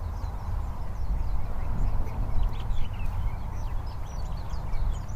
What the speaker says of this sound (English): I'm starting to hear more of the birds.